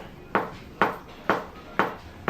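Knife push-chopping on a soft cutting board: five crisp, evenly spaced knocks about half a second apart, each a sharp thud with a short decay, close and clear with no talk.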